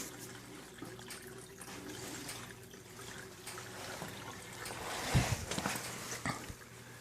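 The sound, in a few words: aquaponic aquarium siphon draining water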